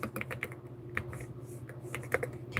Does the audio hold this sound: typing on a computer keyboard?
yes